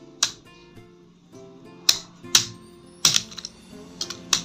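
JavaScript code being typed on a computer keyboard, sparse sharp key clicks in irregular bursts over a faint hum, with no talking.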